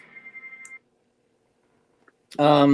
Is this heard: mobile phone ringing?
yes